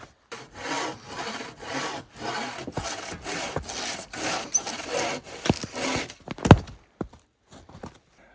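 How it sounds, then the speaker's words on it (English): Roofing material on a shelter being hand-sawn, a close rhythmic rasp of steady back-and-forth strokes, followed by a few sharp knocks and scrapes as the cut finishes. "I want to just get this cut off a little bit"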